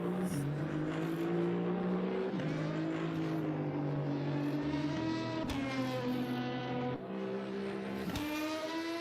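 A GT race car brakes hard from Blanchimont into the bus stop chicane at Spa-Francorchamps during 24-hour qualifying. The engine howls loud and close throughout, its pitch dropping in several distinct steps as it downshifts.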